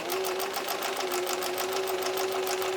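Sewing machine running steadily to stitch quilt segments together at a quarter-inch seam, a continuous rapid mechanical whir with fine rhythmic needle clatter, close and even.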